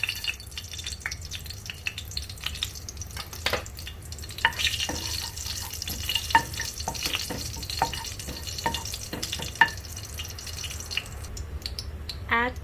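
Cumin seeds hit heated oil in a pan for a spinach and potato dish, making a soft, quiet sizzle with scattered pops and clinks from stirring, fairly faint and irregular.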